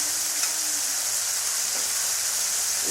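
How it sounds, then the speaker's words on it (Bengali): Chopped tomatoes frying in hot oil for ghugni give off a steady, close sizzle and hiss, loud and continuous, with no voices over it. "ভালো করে ভেজে দেব। আমি টমেটো কুচিয়ে রাখা টমেটোগুলো দিয়ে দেবো।"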